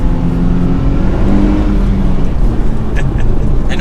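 Inside a manual Nissan Z sports car on a mountain drive, a steady engine drone with a low tonal hum sits under constant road and wind noise while the car pulls along.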